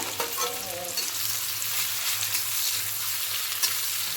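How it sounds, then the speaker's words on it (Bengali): Chopped onion and green chili fry in a pan, making a steady, close hissing sizzle over a low constant hum, with faint stirring scrapes. "কিছুক্ষণ একটু ফ্রাই করবো"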